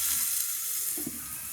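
Vegetables sauté under a lid in a pan, a steady soft sizzling hiss with a faint bubbling stir near the end, brief and unbroken by voices.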